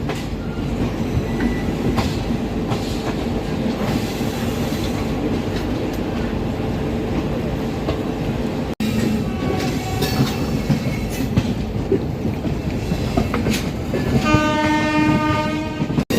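Two trains, the Garib Rath and the Charminar Express, run in parallel into Secunderabad Junction with a loud steady rumble and wheel clatter, then a sustained horn blares near the end.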